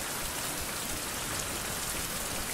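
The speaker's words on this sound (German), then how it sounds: "vor allem regnet das" Rain falls steadily in the survival video game Survival: Fountain of Youth, a dense, even hiss of drops hitting surfaces that carries on without a break and with no talking.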